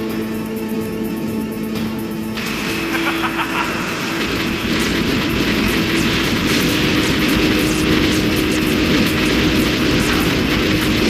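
A Hind attack helicopter in the PlayStation game Metal Gear Solid: a loud, continuous engine and rotor roar that swells after a couple of seconds and then holds steady and dense throughout, with no voices.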